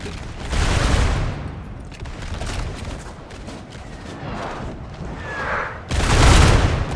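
Massed musket volleys crackle across a Napoleon: Total War battlefield, with loud bursts at the start and end and a thinner stretch of scattered fire between them.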